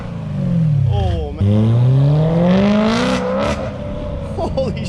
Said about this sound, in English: So now on the E92 M3, we're running the Sencal Motorsports full titanium valved exhaust